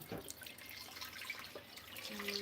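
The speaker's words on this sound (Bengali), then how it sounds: "খুদের গোবত রান্না করার জন্য পাতিলটা ধুয়ে পরিষ্কার করে নিচ্ছি" Running water splashes and drips while a cooking pot is rinsed clean in a kitchen sink, a steady soft wash with small droplet sounds, fairly quiet and close.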